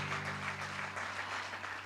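An audience at a Rwandan poetry performance claps steadily for about two seconds, a dense patter of many hands with a low hum underneath and no speech.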